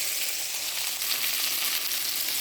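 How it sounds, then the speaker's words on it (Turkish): Fish sizzles and crackles steadily in hot oil, a dense, bright frying hiss that continues unbroken at close range. "Bir taraftan balık kızartıp çocuklara"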